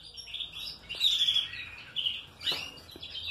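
Green canary nestlings in a finished, ringed brood make high, thin chirps and tweets in short clustered bursts. They sound close but soft, with no voices.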